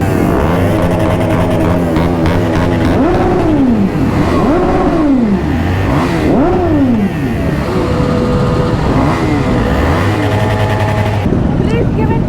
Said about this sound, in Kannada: ಇನ್ಲೈನ್ 4 ಸೌಂಡ್ ಏನೇ ಗುರು, ಬೆಂಕಿ